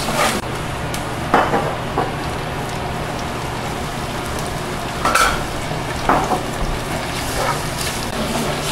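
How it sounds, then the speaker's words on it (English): Anchovies and garlic fry in olive oil with a steady crackling sizzle, broken by a few louder stirring scrapes and pops close by. "Right now I'm just melting the anchovies into the olive oil"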